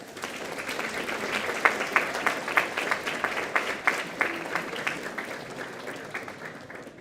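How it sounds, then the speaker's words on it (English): An audience at a spring projects presentation night applauds steadily for several seconds, a dense wash of clapping with individual sharp claps standing out, gradually tapering off. "Can I get a round of applause for all the participants?"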